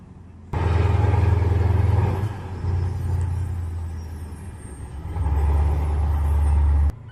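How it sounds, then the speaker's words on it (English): A Komatsu 830 haul truck working at the Rosario mine: a loud, deep diesel rumble that swells and eases as the engine load changes, with no talking. "the Towhaul Komatsu 830 is helping the Komatsu 930 truck that crashed at the Kalawasi Rosario mine out"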